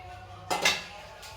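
Maggi noodles being stirred in a pan, with one short burst of spoon or utensil scraping against the pan, a brief clatter and then quiet, close and moderately loud with no talk.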